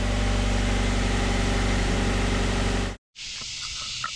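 A Honda CR-V with its check engine light on runs with a steady, loud engine drone. The drone cuts off abruptly near the end and leaves quieter background noise.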